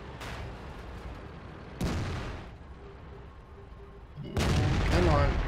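Tank cannon shots fired at an IS-3 in the World of Tanks video game: three sharp booming blasts spaced a few seconds apart, the last loudest and longest, over a steady rumbling engine-like background.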